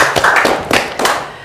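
A studio audience clapping: a short burst of a few hand claps, close and fairly loud, separate strikes rather than a full round of applause.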